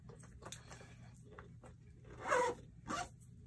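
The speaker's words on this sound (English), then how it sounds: "It zips up pretty easy." A zipper runs up a velvet boot with a chunky pointed heel, two quick rasping pulls standing out near and clear over a quiet room, with no talk.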